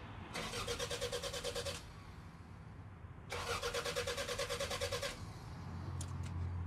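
A 30-year-old Toyota MR2 with 270,000 miles cranks on its starter in two long, rhythmic bursts separated by a short pause. The engine sounds close and loud and does not settle into a clear idle.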